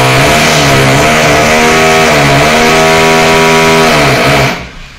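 A power drill runs loud and continuous during construction work on a monk's quarters at a Buddhist temple, its whining motor pitch wavering slightly for about four and a half seconds before cutting off abruptly.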